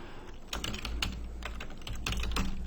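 Keys clatter on a computer keyboard in a quick, continuous run of close, crisp taps at steady moderate loudness, with no voice.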